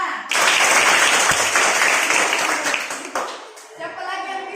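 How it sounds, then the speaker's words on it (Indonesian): Classroom children clap for a classmate named Fiona, a loud dense burst of applause that holds for a few seconds and then fades, followed by a voice speaking. "Ayo tepuk tangan untuk Fiona."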